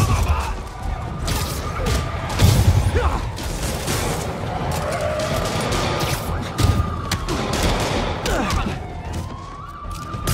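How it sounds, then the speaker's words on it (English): Gunfire crackles through a street shootout in Marvel's Spider-Man Remastered, with sirens wailing, mechanical clanks and bursts of impact noise layered over a dense, steady wall of game action. "That shootout's gonna get someone killed!"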